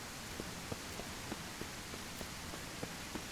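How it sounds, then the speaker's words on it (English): Rain falls steadily in the video game SurrounDead, a dense, even hiss of drops with faint, regular patters or taps scattered through it. "I'm really hoping that the rain ends and it isn't replaced by something worse."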